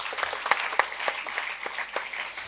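A seated audience applauds a speaker at a maternal and neonatal health care session, a steady wash of many hands clapping with a few sharper close claps standing out.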